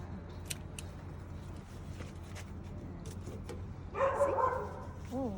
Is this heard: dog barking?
yes